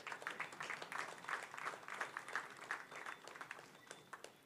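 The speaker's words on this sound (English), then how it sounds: "You can clap for that." Audience applause at a military recruit pass out parade, a steady patter of many hands clapping outdoors at moderate distance, slowly thinning toward the end, with no talk over it.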